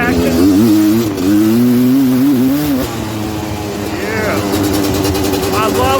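Engine of a Suzuki LT250R ATV on a fall trail ride, revving and dropping through a downshift, rising and falling pitch up close, with a voice talking over it.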